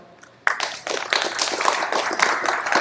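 Audience applause welcoming a speaker at a Hadoop technology talk, starting abruptly after a quiet moment and continuing as a dense, fairly loud crowd clapping with no speech.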